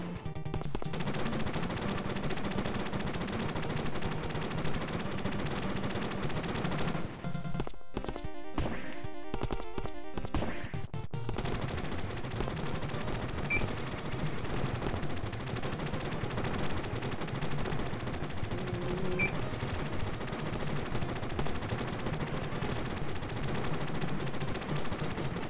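Rapid, sustained gunfire rattles nearly nonstop in the Contra Reforged fan game, dense and loud over a bed of game music, with a short break partway through and no talking.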